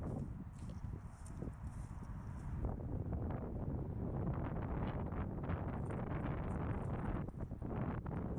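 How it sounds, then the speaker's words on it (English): Strong wind blasting across the microphone, a loud continuous rumble that barely lets up for the whole stretch. "Super windy"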